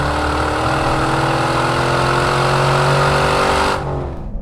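A Corvette with a Borla S-Type exhaust system, engine note loud and steady with a rising drone held at high revs, then dropping off sharply near the end, without talk.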